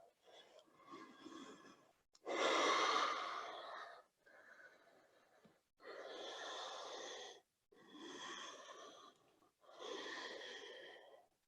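Deep, slow breaths drawn and released while holding a downward dog yoga pose, several long rushing inhales and exhales in a steady rhythm, close and fairly quiet with no talking.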